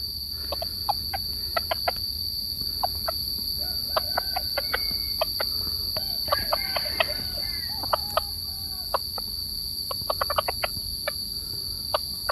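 Chickens and roosters in a farmyard, with scattered clucks and short calls, some near and some farther off, over a steady bed of insect buzzing and high cricket chirping, with no talk.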